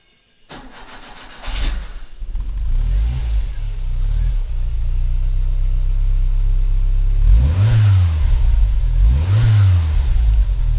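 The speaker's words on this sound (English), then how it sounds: "Wow, what a sound. The engine is louder than the exhaust." Skoda Favorit engine catching after a cranking start, then settling into a loud, close idle before two sharp revs that climb and fall back near the end.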